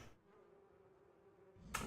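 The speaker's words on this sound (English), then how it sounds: "A huge number of bees dance in and out with a swarm." A soft, continuous buzzing of a bee swarm around a hive in a fantasy video game hums quietly and evenly, ending with a brief louder noise burst.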